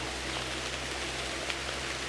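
Rain falls steadily in a forest, a soft, even hiss of drops on leaves with a low steady hum underneath and no talk.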